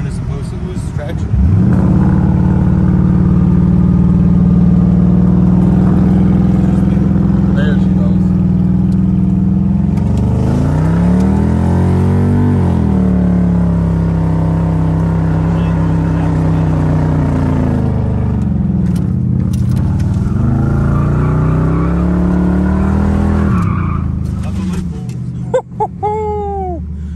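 A Ford Explorer engine revs hard and steadily while a tire spins, the loud drone rising and falling in pitch with throttle changes, close up, with people talking over it.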